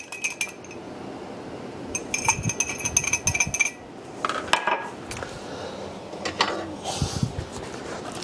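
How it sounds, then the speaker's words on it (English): A Greek salad of cucumber, tomato and feta is tossed by hand in a bowl, giving close, irregular clinks and knocks against the bowl with soft rustling between them; no one speaks. "Just going to give that a little mix. I'm just going to use my hands there."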